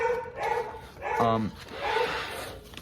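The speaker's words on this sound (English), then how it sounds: "My dogs are fucking barking upstairs." Dogs bark upstairs indoors, several short barks and yips mixed with whimpers at moderate distance, heard alongside a person talking nearby.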